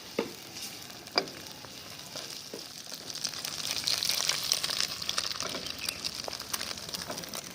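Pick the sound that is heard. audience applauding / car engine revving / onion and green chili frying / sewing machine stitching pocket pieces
onion and green chili frying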